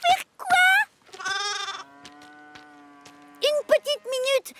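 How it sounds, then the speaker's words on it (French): A lamb bleats in a cartoon setting, a string of high wavering cries with a long held tone in the middle, loud and close, with no talking over it. "T'as vu, maman, une chèvre? Non, un agneau."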